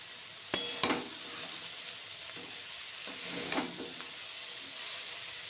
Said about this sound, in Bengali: ভালো করে নাড়াচাড়া করে মিশিয়ে নিলাম